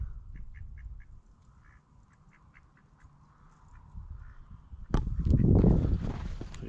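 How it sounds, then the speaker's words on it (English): Ducks give a run of soft, rhythmic quacks in the open outdoors, followed by a louder burst of rustling or splashing noise near the end. "I feel like these ducks were up to no good."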